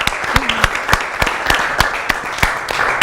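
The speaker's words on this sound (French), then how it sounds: "On applaudit bien fort Damien." Studio audience applause at the close of a TV show rings out as a bright continuous patter with strong individual claps punctuating it regularly, loud and near, while a brief tonal blip sounds early on.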